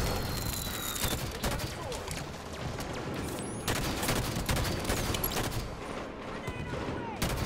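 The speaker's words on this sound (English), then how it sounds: "I shot him like 5 times!" Scattered gunfire and crackling shots in a Halo firefight, a busy, mid-distance mix of bursts and sharp cracks.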